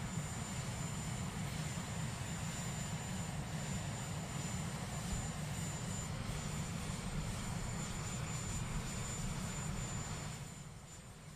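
A helicopter at Donald Trump's second presidential inauguration gives a steady, fairly distant engine and rotor drone that holds level and then fades toward the end, with no speech.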